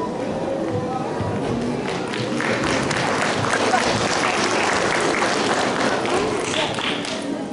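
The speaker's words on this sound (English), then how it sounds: "Let us show our appreciation of these dedicated children, teachers, and parents with a round of applause." A large crowd at a Vesak cultural show applauds children, teachers and parents continuously, a dense sustained clatter of clapping that swells slightly toward the middle and holds.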